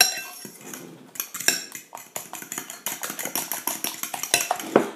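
Onion tart filling with chives being beaten in a bowl, a utensil clattering rapidly against the bowl in quick, uneven strikes after a quieter start, close by and without speech.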